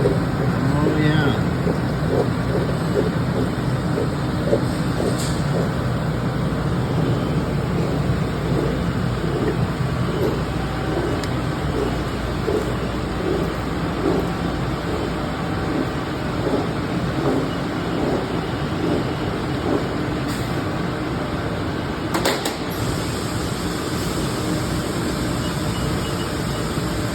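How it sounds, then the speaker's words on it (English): A Haas ST-20Y CNC lathe with live tooling spinning at 500 RPM gives a loud, steady mechanical hum and rumble with faint rhythmic ticking throughout, and brief talk occurs over it. "Live tooling's running at 500 RPM right now."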